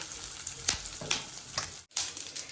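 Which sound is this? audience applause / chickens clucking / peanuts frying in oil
peanuts frying in oil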